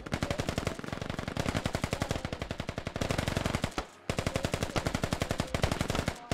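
Sustained rapid automatic gunfire rattles from a forest firing line in the video game Squad, dense rhythmic bursts continuing almost without pause and briefly cutting out once midway.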